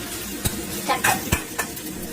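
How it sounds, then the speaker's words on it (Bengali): Four onions frying in a little oil in a pan, waiting to brown for a shrimp and greens dish: an even sizzle under sharp clinks and scrapes of a spoon against the pan. "এখন পেঁয়াজটা বাদামি কালারের জন্য অপেক্ষা করতেছি।"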